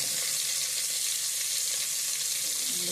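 Steady, even sizzle of garlic frying in hot oil in a pressure cooker, close and continuous for a few seconds with no voices.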